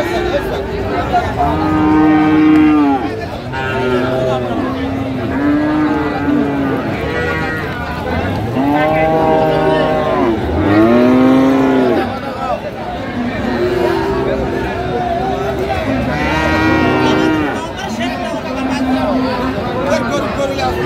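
Cattle moo repeatedly, close and loud, at a heifer calf market for Friesian and crossbred calves in Raniganj, with people chattering and bargaining throughout.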